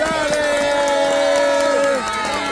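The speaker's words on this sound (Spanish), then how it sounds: "a la cuenta de tres, un gran aplauso y felicitación para Alexandra." Guests at a birthday celebration cheer together, their voices joined in a loud, sustained shout with faint claps mixed in, before the cheer drops slightly at the end.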